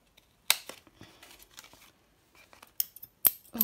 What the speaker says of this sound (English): And I'm just going to cut around that with scissors.